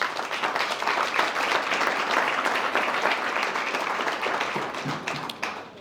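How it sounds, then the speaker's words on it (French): Sustained, dense applause from an audience at a Chamber of Commerce gathering, many hands clapping steadily for about six seconds before tapering off at the end. "je voudrais vraiment qu'on l'applaudisse"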